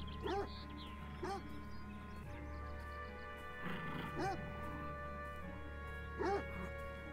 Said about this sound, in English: Always barking at people.